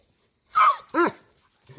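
A dog gives two sharp, close barks in quick succession, followed by a faint low whimper, in an otherwise quiet setting.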